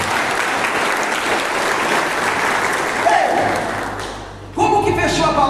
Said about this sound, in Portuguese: Pode aplaudir a palavra de Deus